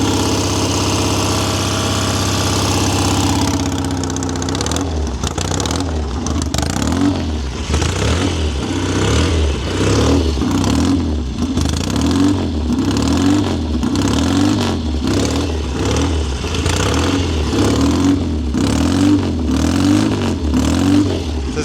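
A 1970 Triumph TR6R Desert Sled motorcycle with loud pipes idles smoothly at first, then is revved repeatedly in rhythmic, throaty bursts that dominate the sound.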